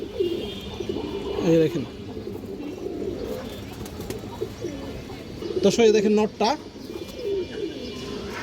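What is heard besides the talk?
Muslodom pigeons cooing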